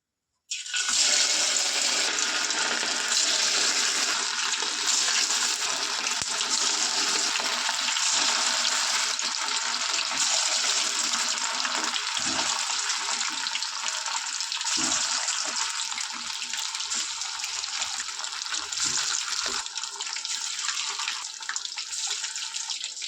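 Marinated chicken kebabs sizzle loudly in hot oil over a gas flame, a dense, continuous frying hiss that starts abruptly and holds steady throughout, with no talking.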